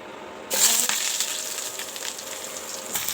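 Cloves, cinnamon and cardamom hitting hot oil and butter for a paneer dish, a sudden loud sizzle that bursts in after a quiet start and keeps crackling steadily, close and without speech.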